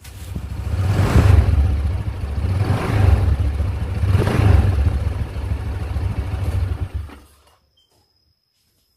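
A Honda Vario 160 scooter engine runs close by with a steady rumbling idle, swelling in a few revs before cutting off abruptly and leaving silence.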